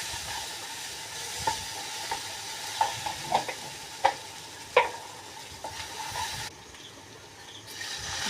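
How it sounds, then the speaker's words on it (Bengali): Chili powder, Kashmiri chili and cumin powder with kasuri methi frying in a pan for an egg curry, a steady sizzle broken by sharp spatula scrapes and clinks, with no voices. "মরিচ পাউডার, কাশ্মীরি লঙ্কা আর জিরা পাউডার দিয়ে একটু ভেজে নেব"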